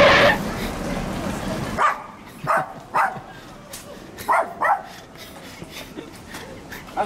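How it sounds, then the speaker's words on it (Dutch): A dog gives several short yips and barks spaced over several seconds at moderate distance, after a noisy opening, with people talking. "Dat is een hond, hè?"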